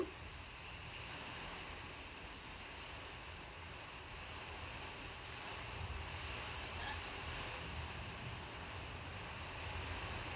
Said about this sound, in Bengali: যা হাওয়া।